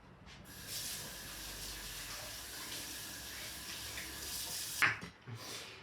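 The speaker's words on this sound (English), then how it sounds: "Wash the hands." Kitchen tap running as hands are rinsed while cooking spaghetti and meatballs: a faint, steady water hiss that briefly splashes louder near the end, with no talking.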